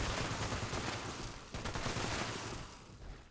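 A .50 caliber machine gun fires in the video game Fallout 76, a dense, loud stream of rapid shots that stops for a moment, then resumes and fades slightly toward the end.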